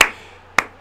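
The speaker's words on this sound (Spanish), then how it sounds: "Solo me queda aplaudir" Two single hand claps, close and sharp, with a pause of about half a second between them and nothing else around them.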